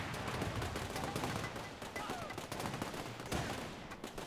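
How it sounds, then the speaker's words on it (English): Mortar and small-arms fire rattle through a World War II battle in Men of War 2, with dense overlapping gunshots and distant booms filling the whole stretch at a steady, busy level. "Well, that mortar went."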